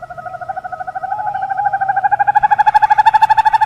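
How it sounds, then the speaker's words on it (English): A barn owl calls with a drawn-out, pulsing tonal cry that rises steadily and grows louder, close and clear with no other sounds. "We will discover why the barn owl sounds like a nightmare"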